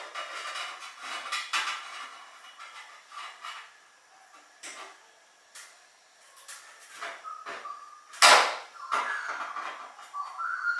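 Tin snips cut car body panel steel before TIG welding, giving sharp intermittent metallic snips and scrapes close by, with one loud clank partway through and quiet gaps between the cuts.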